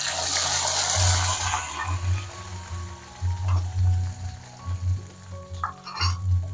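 Mustard seeds, fenugreek, curry leaves, a lump of asafoetida and chopped okra hit hot oil for a tamarind curry tempering. A loud burst of crackling sizzle opens the clip, then settles into bubbling frying with stirring clatter and no speech.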